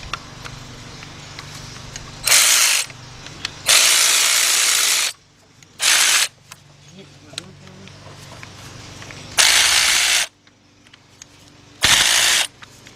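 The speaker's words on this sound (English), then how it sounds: "what I'm going to use is my 10mm deep 3/8 drive, my cordless ratchet" A cordless ratchet fitted with a 10mm deep 3/8-drive socket spins bolts out during Honda head gasket and timing belt work, in five loud buzzing bursts of one to two seconds each, with quieter shop sounds and some talk between them.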